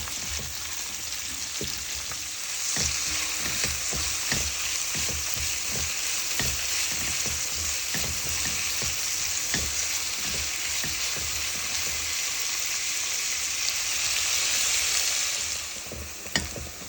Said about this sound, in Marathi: तीन मीडियम साईज कांदे घेतलेले, म्हणजे पातळ स्लाइस करून त्याला एकदम छान ब्राऊन होईपर्यंत आपल्याला फ्राय करायचं